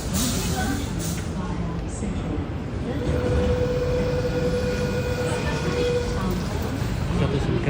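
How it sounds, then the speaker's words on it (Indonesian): Ambient sound at a Sydney train station: a steady wash of rumbling rail and crowd noise with a long sustained tone in the middle, and people talking faintly in the background. "Kita sudah berada di stasiun kereta"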